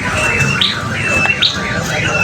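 Canaries at a busy bird market give short bright chirps and squawks over crowd babble and background noise.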